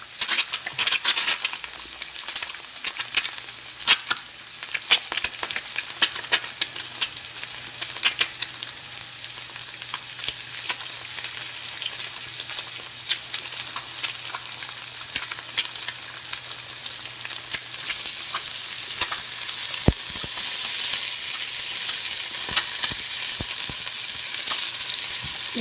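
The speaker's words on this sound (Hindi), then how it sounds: "अंडा फ्राई हो गया।" Egg and chicken kebabs fry in oil in a pan, giving a steady crackling sizzle with scattered pops and spatters throughout. It is moderately loud and close, and it gets a bit brighter toward the end.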